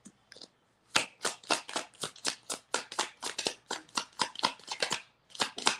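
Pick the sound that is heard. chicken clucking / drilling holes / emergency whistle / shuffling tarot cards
shuffling tarot cards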